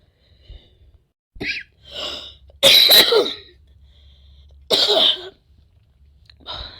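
Several separate coughs with short pauses between them, close and fairly loud, with one sharp burst in the middle and a softer one at the end.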